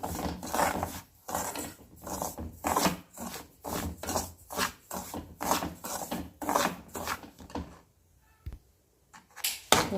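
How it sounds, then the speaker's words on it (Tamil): Semolina roasts dry in a pan while being stirred, producing steady rhythmic scraping and rubbing strokes, close and fairly loud, for rava laddu, fading to near quiet toward the end. "நல்லா வறுபட்டுக்கிட்டுருக்கு இன்னும் நல்லா வறுக்கணும்"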